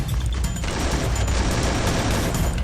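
Gunfire crackles in a video game as a dense burst of rapid shots and booms, loud and continuous with no voices over it.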